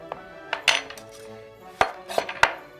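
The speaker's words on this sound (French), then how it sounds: "Et après, je vais couper mon oignon" A kitchen knife clicks and knocks against a cutting board while an onion is sliced. The clicks come in a few sharp, close, irregular bursts, with no talk over them.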